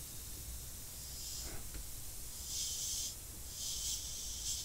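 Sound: airbrush spraying only air

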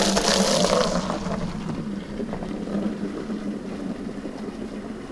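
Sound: strong cold north wind

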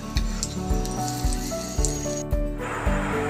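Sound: frying elephant foot yam fritters, flipped in a pan

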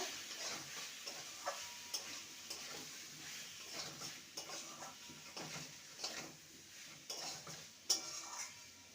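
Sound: fried potatoes and kakrol stir-fried with spices

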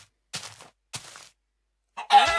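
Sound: chickens clucking in the video game Minecraft

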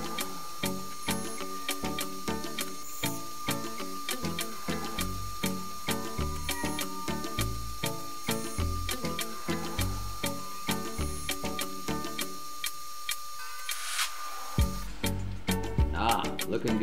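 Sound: cutting threads in engine block

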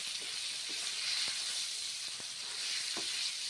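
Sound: frying pointed gourd (potol) in oil

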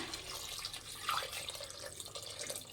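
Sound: pouring water into pot

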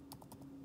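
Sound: typing an APN on a computer keyboard

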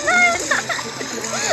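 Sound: water splash in Roblox Rainbow Friends video game

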